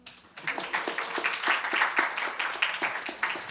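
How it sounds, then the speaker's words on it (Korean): Audience applause at a Latin America cooperation center symposium talk concert, a steady burst of many hands clapping close by, starting abruptly and holding dense and even throughout. "박수."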